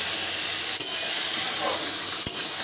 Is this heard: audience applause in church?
no